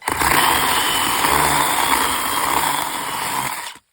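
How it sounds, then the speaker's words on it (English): A Makita electric chainsaw cuts wood during bush care, a loud, close, steady whine and buzz that runs continuously before cutting off abruptly near the end. "if I use an electric chainsaw such as this Makita"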